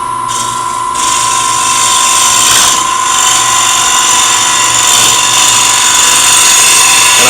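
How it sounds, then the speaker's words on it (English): Wood lathe with an end grain hollowing tool cutting from the center of a spinning piece, giving a loud, continuous shrill chatter and whine with a steady high-pitched tone throughout. "And I'm cutting from the center."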